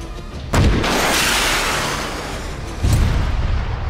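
An MRAP armored vehicle blown up in the military shooter ARMA 3: a heavy booming blast followed by a long rumbling roar, then a second loud explosion near the end, close and powerful with no voices.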